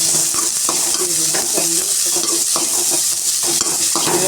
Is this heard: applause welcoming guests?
no